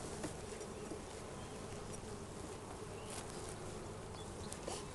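A dense, steady buzz of many honey bees from a package colony during a hive inspection hums continuously, close and even, with no voices.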